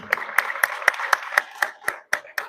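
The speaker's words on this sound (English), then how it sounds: "please, let's give a round of applause to Andrew" Steady applause from a graduation ceremony audience for a psychiatry residency class, about ten sharp, evenly spaced claps that are loud and close, heard alone with no talking.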